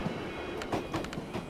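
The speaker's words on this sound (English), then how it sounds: "Militia supply train, southbound." A militia supply train running on rails in the video game Tactical Breach Wizards, a brief rumbling roll with a few rhythmic clacks and metallic clatters at mid distance, no speech.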